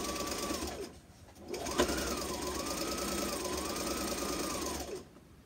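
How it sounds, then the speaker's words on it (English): A sewing machine stitches a fabric face mask in steady running bursts, briefly pausing near the start and stopping at the end, close and clear with no talking. "we begin sewing this mask in place"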